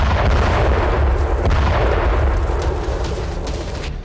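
Howitzer artillery fire booms loud and close, a dense, rumbling roar that fills the stretch with sharp cracks scattered through it and slowly tapers at the end.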